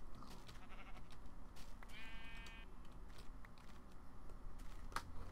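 A sheep bleats once in the Minecraft video game, a short harmonic call standing out briefly over a steady busy background of game sounds and faint clicks.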